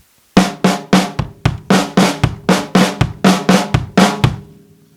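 A drum fill on a kit, a quick run of about a dozen punchy tom and snare hits with flammed doubled strokes, loud and close, ringing out at the end.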